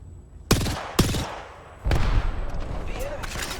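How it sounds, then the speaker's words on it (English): Gunfire in the battle game Apex Legends: two sharp close shots a half second apart, then a heavier rumbling burst, with game voice lines spoken in between. "The enemy's shooting at me."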